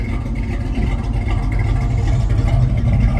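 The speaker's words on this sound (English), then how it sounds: "Listen to that 3-inch exhaust running out the back." A 1978 Pontiac Trans Am Hurst Edition with a 400 V8 and a 3-inch exhaust runs nearby, a loud, deep, steady rumble that swells slightly toward the end.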